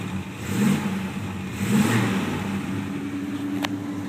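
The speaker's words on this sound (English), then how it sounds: "Give her a little." A 1956 Chevy Bel Air engine idles close by and is blipped twice, each rev swelling briefly then settling back into a smooth, steady idle, with a faint click near the end.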